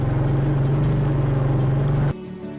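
A motorcycle engine drones steadily while riding a rough, sandy riverside track near the Chenab, a close, even hum with a strong low tone that drops away abruptly near the end.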